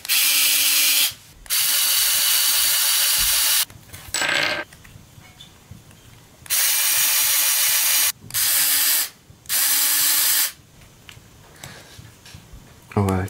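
Parkside PASD 4 A1 cordless electric screwdriver running in repeated loud whirring bursts of a second or two each, separated by pauses with faint clicks and handling noise.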